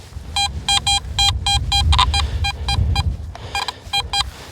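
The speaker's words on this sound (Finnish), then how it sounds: "Kyllä täällä vielä jotakin piippaa yli 90." Metal detector beeping during an outdoor hunt, a run of short repeated tonal beeps in clusters, fairly close and loud over low rumbling ground noise.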